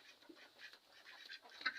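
Domestic ducks on a farm give a quick run of soft, nasal quacks, faint and somewhat distant, with no talking over them.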